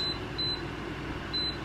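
A kitchen timer being set gives short high electronic beeps, three faint chirps spread over a quiet room-tone background.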